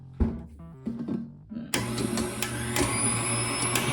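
A KitchenAid stand mixer fitted with the beater attachment starts up after a few bumps and clatters, then runs with a steady, loud motor whir until the end.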